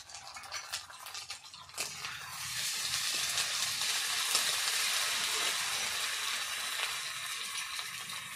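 Cumin paste hits hot oil in a home kitchen pan, flaring into a loud, steady sizzle after a quieter start, then holding a dense crackling hiss right up close, with no talk over it.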